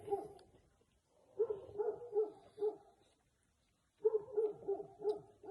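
A dog barks outside near a shed in a rural yard, giving two bursts of several quick barks separated by a pause. The barks sound fairly distant and moderately quiet.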